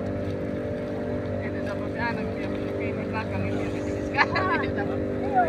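Steady, loud drone of a boat engine crossing the Lembeh Strait toward a shipyard, with constant low tonal hum and water wash; faint voices surface briefly in the background.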